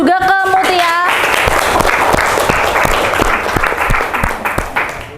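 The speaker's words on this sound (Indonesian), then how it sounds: "Beri tepuk tangan juga ke Mutia." Students in a classroom applaud a classmate, brisk close clapping that starts after a brief voice and continues steadily, thinning toward the end.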